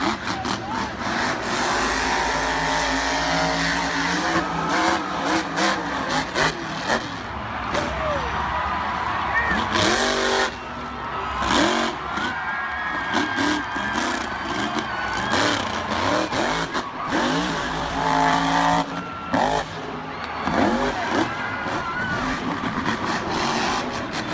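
Monster trucks race at an event, engines roaring and revving continuously with loud bursts and impacts, under an excited commentator's voice throughout.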